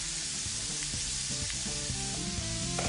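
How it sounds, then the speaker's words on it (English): Food sizzles and fries steadily in a pan while being stirred, with scraping, clattering stir sounds over the constant hiss. The sound is close and continuous, with no talking. "Final stir."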